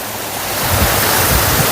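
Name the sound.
rivers and waterfalls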